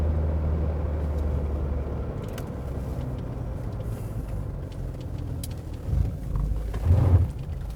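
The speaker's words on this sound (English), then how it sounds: "So now we're just cruising. Nice cruising in a 240D." Mercedes 240D diesel car cruising in fourth gear at about 48 miles an hour, heard as a steady low engine and road drone inside the cabin with a slight swell near the end.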